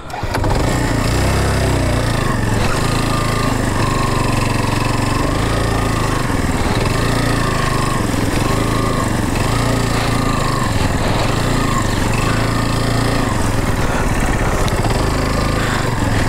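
A motorcycle engine grinds along on an offroad trail between Jaflong and Sadapathor, a loud, steady, continuous drone that rises and falls with the throttle and lasts throughout, with no voices heard.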